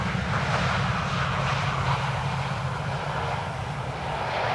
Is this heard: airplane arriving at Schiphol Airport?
yes